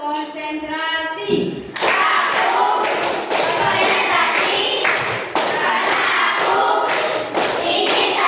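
Students in a classroom clap together in a rhythmic sequence, evenly spaced loud claps repeating for several seconds right after a teacher speaks.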